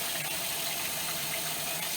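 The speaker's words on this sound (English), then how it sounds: "So I'm running another water into it." Tap water runs steadily into a bowl of rinsed rice, a continuous close splashing gush that sets the rice up for soaking, with no voices.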